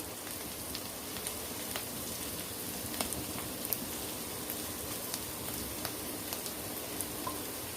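Potatoes sauté in a pan with Maggi masala, giving a soft, continuous close sizzle with faint crackling pops throughout, steady and unbroken, with no talking.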